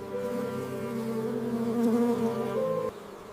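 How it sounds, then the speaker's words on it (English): Drone honeybees buzz steadily inside a hive, a dense, continuous droning hum that swells slightly before dropping off near the end. "These are drone honeybees, males of the colony, waiting for the brief season when their genetics can travel beyond the hive."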